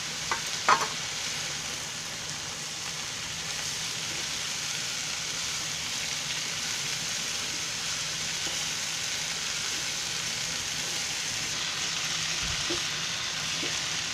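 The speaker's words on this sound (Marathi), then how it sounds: "मी टोमॅटो टाकते." Tomatoes stirred into red leafy vegetable frying in a pan: a continuous even sizzle throughout, with a couple of faint utensil clinks near the start.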